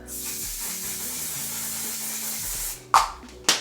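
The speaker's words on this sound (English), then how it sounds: "spray my face with the one size On Till Dawn mattifying waterproof setting spray before my makeup" A steady hiss of One Size On Till Dawn mattifying waterproof setting spray misting onto a face close up, followed by two short, sharp spritzes near the end.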